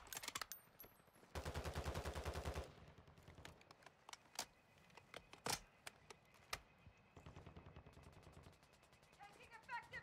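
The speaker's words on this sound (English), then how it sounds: "Taking effective fire." Rapid automatic gunfire from the video game Call of Duty Warzone 2.0: a dense, loud sustained burst followed by scattered sharp single shots and short volleys, with faint in-game radio chatter underneath.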